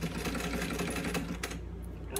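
A sewing machine stitching fabric for a zipper pouch: a steady, fast mechanical chatter close by, running continuously and then easing off, with a few light clicks near the end.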